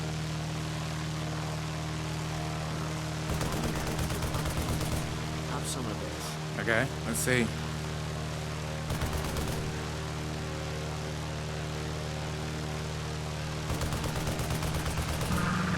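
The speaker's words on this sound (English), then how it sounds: "Flower versus state-of-the-art fighter plane. Winner? Fighter plane." A fighter plane drones steadily in a video game while bursts of rapid gunfire crackle out in several short volleys, with someone talking briefly over the engine.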